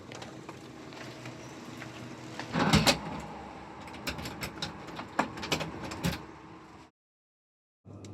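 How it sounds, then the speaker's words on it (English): A door is shut and locked as its occupants move out for good: a few seconds of rattling, clacking latch and lock mechanism noises close by, then a brief silence and a faint resumption, with no one speaking. "We're going to be walking out this threshold for the last time and locking the door for the last time."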